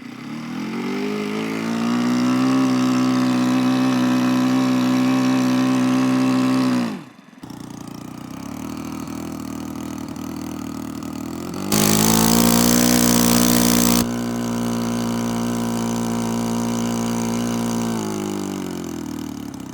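A Fairchild PT-19 model airplane's small engine runs on glow fuel, a loud steady buzzing drone that cuts out briefly, then restarts and holds with a short louder surge partway through.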